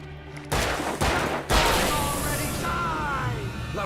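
Gunfire in the Alan Wake video game: a few sharp shots, then a rapid burst of fire at close range with a lingering ringing tail, and brief speech nearby.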